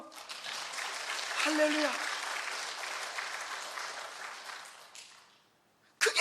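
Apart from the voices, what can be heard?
congregation applauding in church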